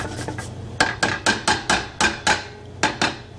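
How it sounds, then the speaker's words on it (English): A garlic clove is grated, sharp rhythmic scraping strokes about ten in quick succession, close and fairly loud, with no talking. "Now I'm going to take some garlic and I'm just going to grate it."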